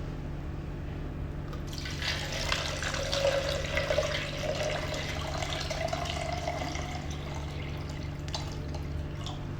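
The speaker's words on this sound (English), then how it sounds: "Okay, now we inject water." Water poured into the tank of an ETG360 beauty machine, a steady trickling, splashing fill that starts after a brief pause and runs continuously at moderate loudness over a low hum.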